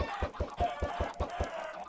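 Chickens on a Minecraft farm cluck in a quick, regular series of about eight short clucks, close and clear with no voices.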